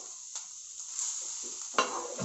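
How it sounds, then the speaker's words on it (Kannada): Mustard seeds spluttering in hot oil during tempering with asafoetida, a steady sizzle with scattered pops and a sharper crackle burst near the end, no voices. "ಸಾಸಿವೆ ಸಿಡಿಯೋ ಸ್ಟಾರ್ಟ್ ಆಗಿದೆ"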